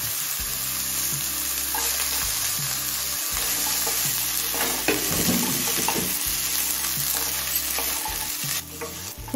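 Cauliflower frying in hot oil in a pan over a low flame, with a steady crackling sizzle and repeated scraping, stirring strokes of a spatula close by, continuous throughout with no talking.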